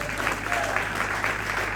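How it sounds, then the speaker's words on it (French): An audience claps together in steady, dense applause that holds at an even level throughout, with faint voices mixed in under the clapping. "Est-ce qu'on peut applaudir pour le message?"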